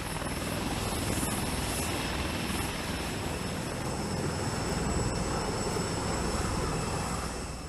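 A V-22 tilt-rotor military aircraft flies close by, its rotors producing a loud, continuous, dense roar that holds steady throughout.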